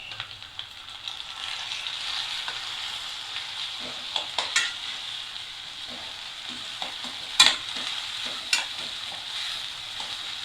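Tomatoes with crushed fennel sautéing in a pan: a continuous soft sizzle with occasional spatula taps and stirs, steady and close, no voices.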